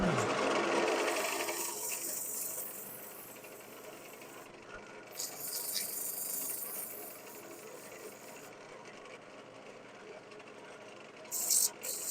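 Sandpaper rubs against a woodturned piece spinning on a lathe, giving a steady hissing rasp over the lathe's hum, with intensity shifting as pressure changes and a couple of brief knocks near the end.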